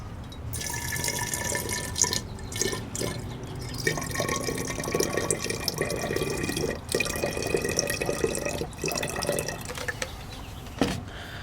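Water poured into a wine bottle, a steady close trickle and splash that runs for several seconds with small drips and clinks, alone without talk.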